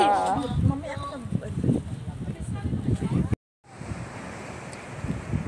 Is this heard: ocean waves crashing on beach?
yes